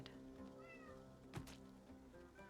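A small cat in Baldur's Gate 3 gives a few soft meows over a busy background with a brief thump, very quiet overall.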